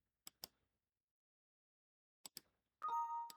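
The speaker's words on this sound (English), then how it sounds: "Oh, new SMS notification." Windows 8 build 8032 new SMS notification: a few quiet clicks, then a bright electronic chime with ringing tones that starts near the end and is cut off.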